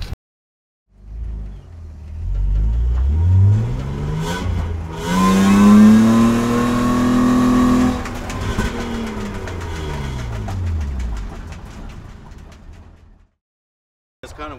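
A 2003 Chevy Tahoe 4x4 with a bad starter cranks and fires, its engine note sweeping upward in a loud rev before settling into a steady running hum that fades out, with no voices.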